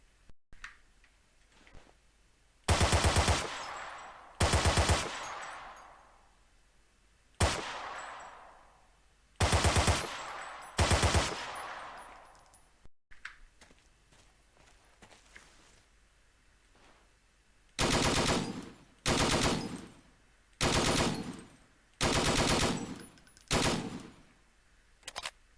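Gunfire from weapons in Battlefield 2 with the Forgotten Hope 2 mod: loud, sharp bursts of automatic fire in short separate strings, a few bursts, a pause, then a faster run of repeated bursts.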